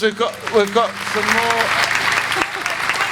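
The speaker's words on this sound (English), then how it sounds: "Let's have a round of applause." Audience applause at a Talkaoke talk-show gathering, a loud, steady wash of clapping running under a voice and some sung or spoken phrases throughout.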